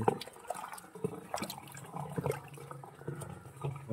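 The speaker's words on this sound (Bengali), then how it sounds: "খুব তাড়াতাড়ি জল চলে যাবে, স্পিডে জল যাচ্ছে।" Rainwater drains quickly from a rooftop garden whose outlet was blocked, making a steady gurgling, rushing flow close by at moderate level, with no talk.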